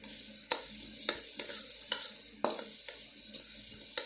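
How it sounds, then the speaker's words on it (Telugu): Coriander seeds dry roasting in a pan over a medium flame, with sharp scraping stirs and rattling clicks at irregular intervals over a quiet, faint background hiss. "మీడియం ఫ్లేమ్లో పెట్టుకొని 1 by 1 ఒక్కొక్కటిగా వేయించేసుకుందామండి"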